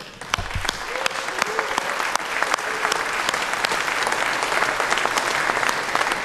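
A crowd at the Sigfox World IoT Expo 2017 applauds: loud, sustained clapping with sharp individual claps standing out from the dense wash, and a brief low thump near the start.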